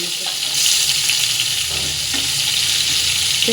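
Spiced eggplant slices frying in oil on a nonstick tawa, a steady loud sizzle that holds unbroken throughout, with faint clinks in the background.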